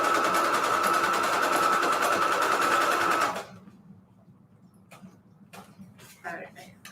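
Up close, a sewing machine stitches the side of a junk journal envelope page in one loud continuous run, then stops, leaving light handling clicks and rustles.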